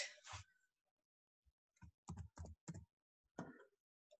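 Typing on a computer keyboard: a few scattered clicks and short bursts of keystrokes, fairly close and quiet, with no talking.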